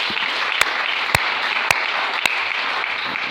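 A church congregation applauding, a dense, steady wash of clapping that carries on throughout at a moderate level, with a few sharp louder claps standing out and no clear talking.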